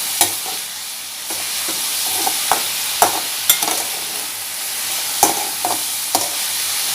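Grated carrot sizzles steadily in a frying pan for a vegetable dosa stuffing, with sharp irregular clicks and scrapes of a spoon stirring against the pan, close and without voices.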